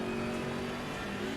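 A BMW M6 GT3 race car at Brands Hatch under full throttle, a steady, loud, close engine drone holding a constant pitch without any voices.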